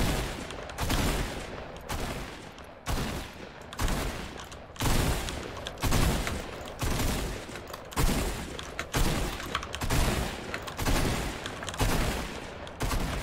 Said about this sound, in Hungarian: Meg kell próbálnod dodge-old a lövéseket, miközben 4 bot darál téged egyfolytában.